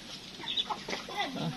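Free-range chickens on a farm in the Philippines cluck in short, scattered bursts over a faint outdoor background, with no voices.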